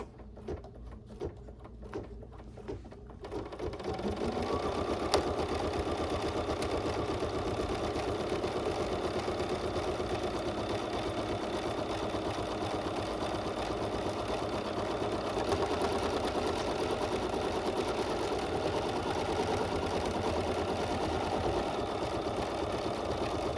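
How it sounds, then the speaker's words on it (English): A sewing machine stitches fabric for a pocket peeker, first with a few soft clicks and handling sounds, then running as a fast, steady mechanical whir at close range for about twenty seconds. "Now I'm going to just simply stitch."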